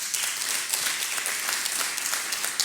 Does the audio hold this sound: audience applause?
yes